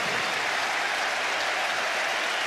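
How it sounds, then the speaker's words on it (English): A football stadium crowd applauds Joe Cole at a Premier League match against Manchester United, producing a dense, even roar of clapping that holds steady and loud for a couple of seconds. "Let's listen to the applause for Joe Cole."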